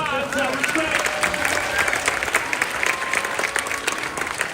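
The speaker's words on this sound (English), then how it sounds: "Round of applause." A crowd claps and cheers on cue at a Disney World show, producing loud, continuous applause with bursts of louder hand claps across the whole stretch.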